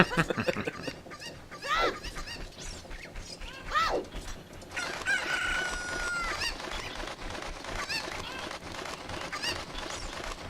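Chickens from Zelda: Ocarina of Time let out rising squawks and clucks in short bursts, along with clicky mechanical game effects and a bright sustained tone partway through.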